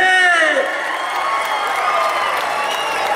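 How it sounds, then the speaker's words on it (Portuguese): A crowd at a municipal Olympiad celebration in Pingo D'água, Minas Gerais, applauds and cheers loudly in a dense, sustained wash of clapping and whoops, while a voice rings out over it at the start. "Cadê os aplausos pro Arthur"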